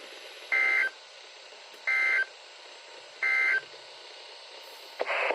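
NOAA Weather Radio required weekly test playing EAS alert header bursts: three evenly spaced, buzzy electronic data tones about a second and a half apart, clear and isolated over faint static, with a fourth burst starting at the end.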